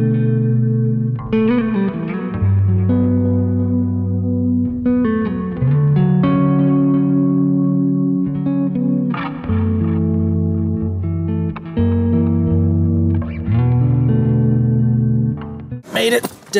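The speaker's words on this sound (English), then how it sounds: "it sits in the effects loop just to give me that little bit of echo that I occasionally want" A bass guitar played through a budget $99 rig with an echo effect in the effects loop: loud, close sustained notes and phrases ring out one after another with a faint echo tail, ending in a brief noisy burst.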